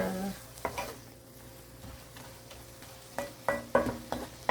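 Butterbur stems stir-frying in a pan, a steady low sizzle with scraping stirs and a few louder clanks of a utensil against the pan toward the end, no voices.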